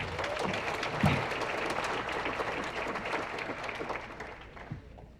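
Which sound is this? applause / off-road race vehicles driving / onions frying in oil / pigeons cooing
applause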